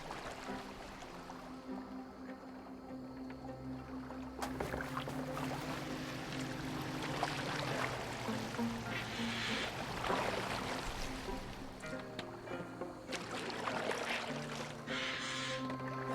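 A boat is rowed across open water in Assassin's Creed Valhalla, with a continuous wash of water and lapping waves, oar splashes surging at intervals, and a low steady hum underneath, with no voices.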